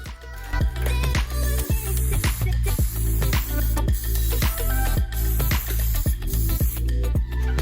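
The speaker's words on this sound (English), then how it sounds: "So let's get spraying." An aerosol can sprays clear coat onto a restored BMW E91 headlight, sounding as a loud, close, continuous hiss made of a run of repeated pulses with a low rhythmic thump beneath.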